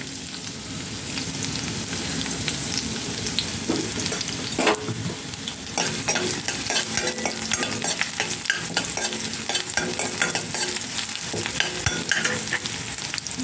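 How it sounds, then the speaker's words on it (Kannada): Green chillies and garlic fry in two spoons of hot oil for a tempering, a loud dense crackling sizzle with constant spatter and stirring scrapes, close and without voices. "ಈಗ ಮೆಣಸಿನ್ಕಾಯಿ ಬೆಳ್ಳುಳ್ಳಿ ಹಾಕೋಣ."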